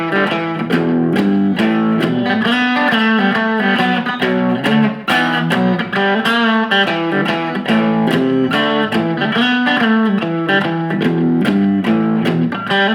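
Electric guitar plays a blues song in an 8-bar pattern, with loud, slightly distorted rhythmic chord stabs and licks driving steadily throughout, no talking.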